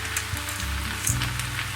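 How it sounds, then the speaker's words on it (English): Drained potatoes go into a pan of frying lamb samosa filling, producing a close, steady sizzle with a few soft thuds as they land, and no talking. "At this point I will be adding potatoes."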